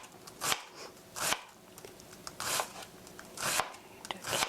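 A knife chopping chives on a board for a deep pan pizza, a few sharp separate cuts about once a second, close and fairly quiet, with no talk over them.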